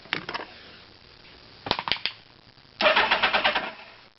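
A cold 1983 Suzuki GS1100 ED motorcycle that has sat idle for a while, with a solid-state ignition power box. Two short groups of cranking stumbles are followed by the engine catching and running with loud, rapid, pulsing exhaust beats.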